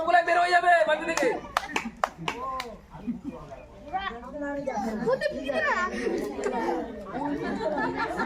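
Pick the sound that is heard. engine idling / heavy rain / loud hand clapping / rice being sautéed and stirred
loud hand clapping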